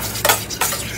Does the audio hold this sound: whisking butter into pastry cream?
yes